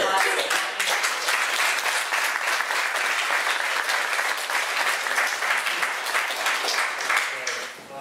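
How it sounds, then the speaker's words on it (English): An audience at an artist talk at an art school applauds, dense sustained clapping from a room full of people that fades slightly at the end. "So please join me in a round of applause."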